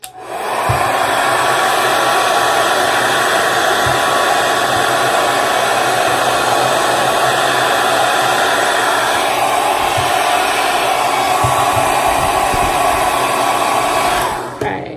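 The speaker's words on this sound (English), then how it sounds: "now what I'm going to do is continue with the hairdryer" A hair dryer blows continuously at close range, heating a shoe to loosen its heel pads, a loud steady whooshing roar that runs for the whole stretch before shutting off.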